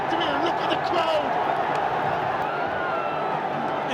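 A stadium crowd roars steadily after a cricket final victory, a dense, loud, continuous wash of cheering with a commentator's voice over it.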